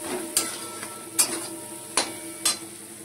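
A spatula stirs Kashmiri chili powder into a fish-head mixture for a katla fish-head and taro-leaf dish, sizzling quietly in a pan with four sharp metallic scrapes spaced about a second apart.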